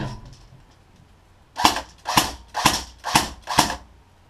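An HK UMP45 airsoft gun fires on full auto, giving five sharp, evenly spaced cracks about half a second apart, close and loud after a quiet start.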